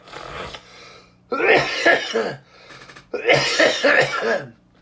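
A person coughing close up, two bursts of harsh, repeated coughs with throat-clearing rasps and short quiet gaps between them.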